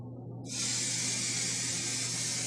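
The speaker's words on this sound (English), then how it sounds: "So now we're going to spray the front of her hair" Hairspray hisses in one steady, close spray onto the front of a woman's hair while it is being styled, over a low background hum.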